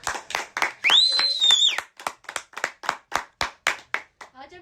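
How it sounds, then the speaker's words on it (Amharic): An audience claps for a woman in slow, steady unison, about fifteen distinct close claps, with a high sustained cry or whistle rising over the first few beats. "ለሷም አንዴ አጨብጭቡላት።"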